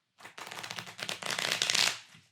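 Playing cards are riffled and then bridged in a bridge shuffle, a quick close-up flutter of cards snapping together that swells, then settles into a soft fading rustle.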